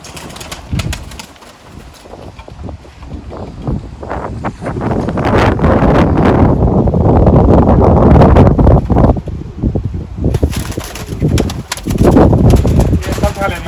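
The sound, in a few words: pigeons in a loft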